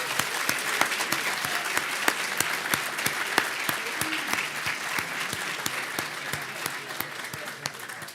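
Dense audience clapping fills a graduation ceremony for a physical therapy class, steady and even throughout with sharp individual claps standing out near the listener, sustained without any voices.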